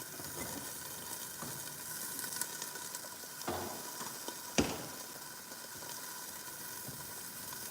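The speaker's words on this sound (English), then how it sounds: "Stirring in this. I'll use one spoon to stir everything." Food in a pan stirred with a single spoon, giving a steady hissing sizzle with a few soft scrapes and one sharp metallic clink, close by and fairly quiet.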